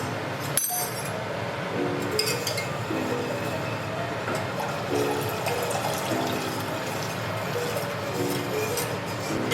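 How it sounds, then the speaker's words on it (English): Cold water pours from a tap into a cup for a cornstarch slurry in a home kitchen, a steady running stream with a sharp clink near the start and small splashes throughout, close and clear with no talking. "I'm just gonna do a cold cup of water, and then I'm gonna add like a quarter cup of cornstarch each."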